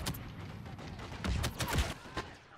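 Blaster gunfire in a Star Wars Battlefront video game match, a rapid series of fairly faint sharp shots and bursts in an uneven rhythm over a low game rumble.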